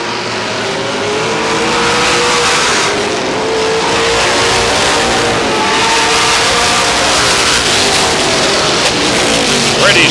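Race cars roar around the oval at Star Speedway in New Hampshire, a dense, continuous engine drone with rising and falling pitch sweeps as cars pass, loud and sustained throughout, with a commentator's voice faintly underneath.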